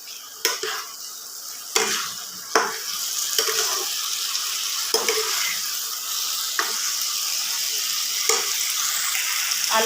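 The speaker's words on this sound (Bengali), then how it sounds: "আলুগুলো দিয়ে ভালোভাবে কষিয়ে নিয়েছি।" Boiled potatoes being stirred and fried in spice paste in a pan for a Bengali koi fish recipe, with a steady sizzle broken by a series of scraping spoon strokes.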